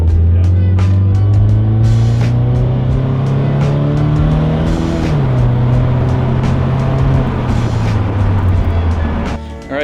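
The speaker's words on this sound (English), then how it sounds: "That exhaust sounds fucking bassy and deep." Toyota 86 fitted with an Invidia N2 catback exhaust, a deep, bassy drone rising and falling steadily as the naturally aspirated engine revs under load on a test drive, loud and continuous throughout, with a short shift dip midway.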